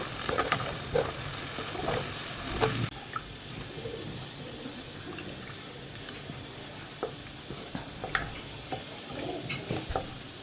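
Spices and tomato sizzle in a new frying pan with occasional scrapes and taps of a stirring spoon, a steady moderate hiss heard up close with no talking.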